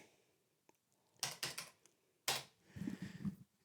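Keys tapped on an Amstrad PPC640 portable computer keyboard, a few quiet clicks followed by two short bursts of quick typing, close and alone.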